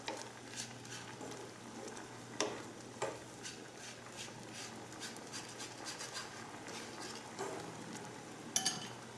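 Beaten egg stirred and scraped through a sieve for a Korean-style Chinese ulmyeon dish, heard as faint, repeated scratchy strokes and light ticking taps against the mesh.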